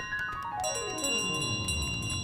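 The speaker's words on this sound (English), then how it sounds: "I wouldn't ring that bell all the way if I were you" Bell rung in Untitled Goose Game, a clear chime with a descending ringing tone and shimmering overtones, fairly faint and alone over a short span.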